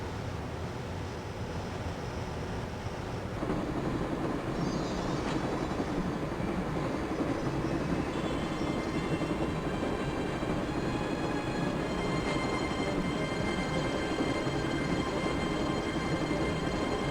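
Steady rumble and clatter of a moving train in the Broken Sword adventure game, a dense continuous rolling noise with faint high tonal whines, growing slightly louder after the first few seconds.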